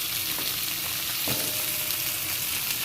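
Vegetable stalks fry with potatoes in a pan for an aloo posto dish, giving a steady, close, even sizzle with faint stirring and no voices.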